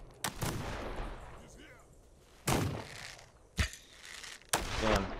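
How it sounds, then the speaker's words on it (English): Gunshots in the video game This Land Is My Land, four loud separate bangs spaced a second or so apart over a quiet background, each with a short rumbling tail, and a voice talking between them. "I'm just gonna have them shoot at me while my people shoot."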